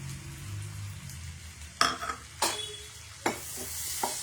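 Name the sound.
onions frying in a pan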